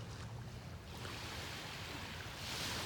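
Steady, rushing surf of ocean waves washes against a beach, with wind noise filling the background and no voices.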